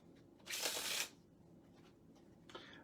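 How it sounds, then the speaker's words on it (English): A single quick riffle of playing cards, a half-second burst of crisp flutter, followed by quiet handling and a faint second riffle near the end. "Let me give a quick shuffle here."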